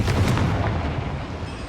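A blasting curse spell explodes in the Hogwarts Legacy video game, a loud, dense boom with a rumbling tail that fades over under two seconds.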